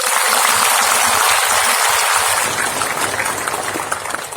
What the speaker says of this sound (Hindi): तो ताली बजा के बजाए